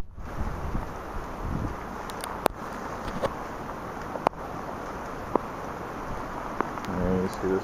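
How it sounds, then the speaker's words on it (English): Strong wind during Hurricane Sandy buffets the microphone in a steady broadband roar, with a few sharp knocks and rattles standing out over the gusts. "It's definitely a lot windier than it was earlier."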